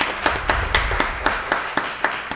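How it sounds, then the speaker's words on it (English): A sparse round of clapping from a few people at a county board of commissioners meeting, with about nine distinct, moderately loud claps spaced at a slow, uneven rhythm and no voices. "Let's give Fire and Rescue a wonderful round of applause."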